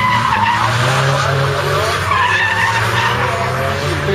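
A drifting car at the Bologna Motor Show skids with loud, sustained tire squeal over a revving engine, close and continuous throughout.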